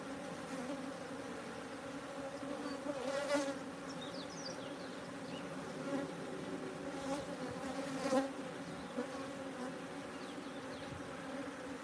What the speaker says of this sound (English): Hey John, with these swarms, these are brand new swarms just landing